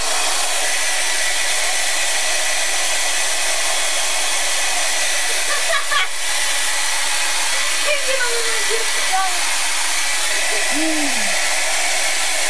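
A hair dryer blows steadily and loudly across a Day of the Dead masking art journal page, a constant close whooshing roar with a few faint voice fragments underneath.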